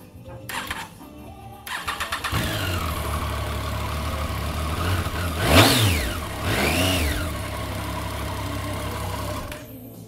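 A 2016 Triumph Street Triple R with stock exhaust and 11,000 miles starts up, settles into a steady idle, then gets two sharp throttle blips that rise and fall, close and clear.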